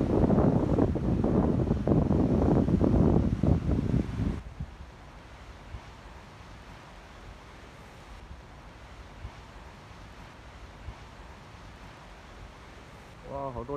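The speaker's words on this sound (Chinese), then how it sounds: "你看现在那个浪啊，把那个石头都打湿了" Big sea waves crash against rocks where people used to fish, a loud roaring surge with wind rumble that dies down after a few seconds to a steady distant wash of surf.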